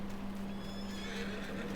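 Horse neighing outdoors on a farm on a fine day, a drawn-out whinny heard over a steady low engine hum from nearby vintage beet machinery, with no talk.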